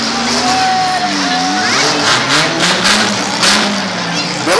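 A mid-size demolition derby car revs its engine during a heat at St-Antonin, loud rising and falling engine whines with a brief tire squeal, mixed with crowd noise and an announcer's voice.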